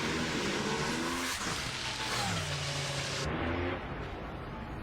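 A loud NHRA drag racing engine roars and revs with rising and falling harmonic sweeps, then cuts back and drops off sharply near the end, with constant crowd and track noise underneath.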